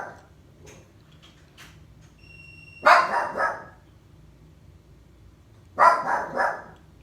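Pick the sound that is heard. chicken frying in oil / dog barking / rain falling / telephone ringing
dog barking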